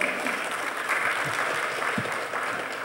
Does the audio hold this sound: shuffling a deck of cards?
no